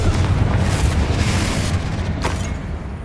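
In the video game Hogwarts Legacy, the Confringo fire spell explodes with a loud, deep, rumbling boom that stays dense and roaring for about three seconds, heavy in the low end.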